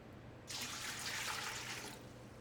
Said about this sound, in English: Fill a pot up with 4 cups of water